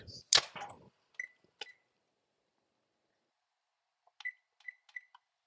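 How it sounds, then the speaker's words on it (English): An oven timer is set with short, clear electronic beeps: a single clatter opens, then two isolated beeps, and after a pause a quick run of four more, close and alone in a quiet kitchen. "I'm going to set the timer."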